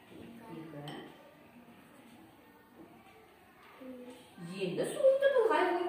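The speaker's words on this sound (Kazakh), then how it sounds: "Сен осы стакандағы тұздан суыңа 3 қасық сала қой." At a kindergarten, a spoon scoops salt into a glass of water, giving light clinks and taps against the glass under a child-directed voice that talks through most of it.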